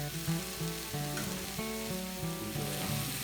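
Smash burgers sizzling on a hot cast iron griddle, steady close crackling fry with intermittent scraping, tonal clanks of a metal spatula, no talk.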